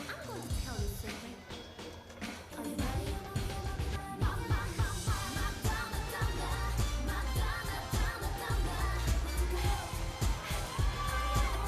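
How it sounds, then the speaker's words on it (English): A crowd at a youth lead climbing world championship semi-final in Singapore cheers and shouts continuously, the roar swelling and staying loud throughout with scattered whoops. "the crowd were really picking up behind her then as well"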